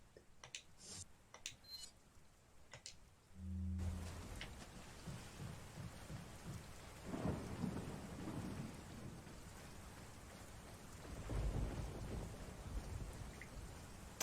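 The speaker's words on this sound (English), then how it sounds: "I love rainy lightning storms. They're so good for setting atmosphere." Rain pours steadily in a Resident Evil 4 game scene while thunder rumbles loudly at intervals, with a quiet lead-in of faint clicks and ticks before the downpour swells in.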